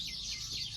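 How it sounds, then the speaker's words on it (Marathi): Sparrows chirp outdoors after rain, a steady busy chatter of overlapping calls with a low background rumble underneath. "चिमण्या हे बघा, आवाज बघा"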